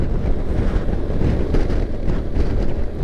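Strong, steady wind roar buffets the microphone as a BMW R1200GS Rallye motorcycle rides across a high harbour bridge, a dense low rumble filling the whole stretch with no speech.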